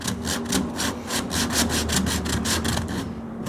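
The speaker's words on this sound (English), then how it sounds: "little flexible sanding board" Close, rhythmic back-and-forth rasping of a flexible sanding board on the hood of a 1929 Chrysler, about a dozen quick strokes in steady succession.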